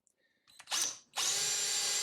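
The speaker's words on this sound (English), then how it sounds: "Get out our handy dandy drill. Make sure our wood's in place so we don't drill our fingers." A handheld power drill bores into a block of wood, with a short whir that starts and stops, then a steady loud grinding whine as the bit cuts through the wood, close up and with no talk.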